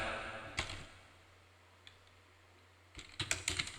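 Brief bursts of keystrokes on a computer keyboard, a few clicks early and then a denser flurry of typing at the end, close and fairly quiet with a low hum between.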